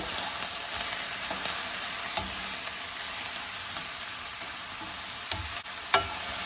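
Seasoned cabbage stir fry with pepper and ground turkey sizzles steadily in a pan, with a few soft knocks as it is tossed; no talking.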